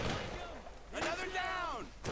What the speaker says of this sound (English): I threw a grenade and go off.